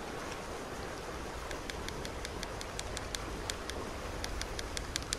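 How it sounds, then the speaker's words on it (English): Heavy rain pours down in the Red Dead Redemption 2 video game, a steady dense hiss with a patter of sharp drop clicks throughout, loud and continuous with no talk. "Here it is, piss pouring down rain again."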